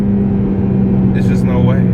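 A 2018 Audi RS3 sedan's engine and exhaust rumble steadily from inside the moving car, a constant loud drone with brief higher chirps near the end, while someone speaks over it.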